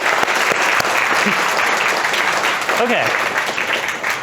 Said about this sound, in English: I got to give them a round of applause.